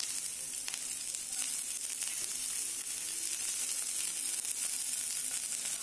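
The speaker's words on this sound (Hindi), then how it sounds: "अभी इसमें डालेंगे हम ऑनियन, प्याज और कैप्सिकम, इसे भी थोड़ा हम फ्राई कर लेते हैं।" Chopped onion and capsicum fry with a continuous, even sizzle. A few faint stirring scrapes sit under it, and nobody speaks.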